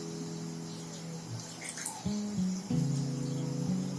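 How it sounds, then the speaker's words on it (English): Water pouring into a glass during a classroom physics demonstration, a steady near splash and trickle that rises in pitch over a couple of seconds, with no talking. "I've taken a glass, then I will be pouring some water in it."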